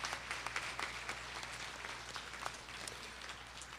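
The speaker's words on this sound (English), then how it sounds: "let's give you another warm round of applause" Graduates at an evening spring commencement ceremony receive a faint, distant round of applause, steady crowd clapping heard quietly in a large hall over a low hum.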